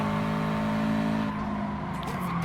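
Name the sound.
race car engine revving in Gran Turismo Sport video game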